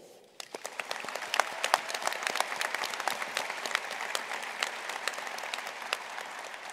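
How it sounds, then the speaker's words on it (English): A university commencement ceremony audience applauds a singer who performed America the Beautiful, with steady crowd clapping rising quickly and sustaining evenly throughout, without talk. "Please join me in a round of applause for Mark Quistorf, who sang America the Beautiful"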